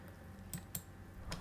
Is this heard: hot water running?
no